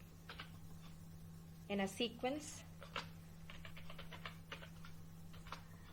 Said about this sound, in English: So here I have finished typing my command.